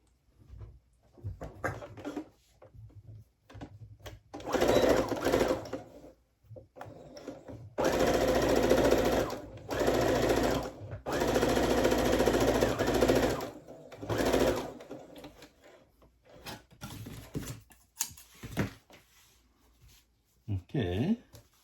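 A sewing machine stitches a welt on plaid men's pants in several loud bursts of rapid whirring, separated by pauses and soft handling noises.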